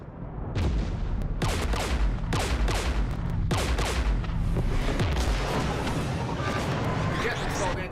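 Heavy gunfire in the Mass Effect 3 video game, a battle against the Geth: several loud bursts of rapid shots and booming blasts in quick succession, then denser crackling fire near the end.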